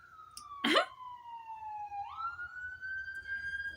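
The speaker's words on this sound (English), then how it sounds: "there's some sirens to go with it" A wailing siren sweeps down in pitch, then rises and holds a steady tone, clear but somewhat distant, with a sharp knock early on.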